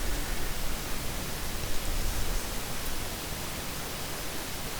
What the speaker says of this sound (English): that flashlight is useless. My gosh, it makes so much noise